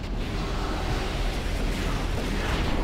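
Cannon fire and explosions aboard a ship in a video game, a dense rumbling barrage of booms with heavy low-end, continuous and loud throughout with no speech.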